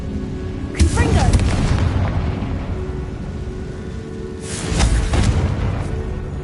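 Fire-blast spell explosions in Hogwarts Legacy, two deep booming bursts around one and five seconds with rumbling tails, over steady game ambience.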